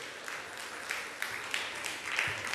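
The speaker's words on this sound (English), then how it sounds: "Please, no applause." Applause from an audience in a radio drama, a steady close wash of clapping with small swells throughout, and no voices over it.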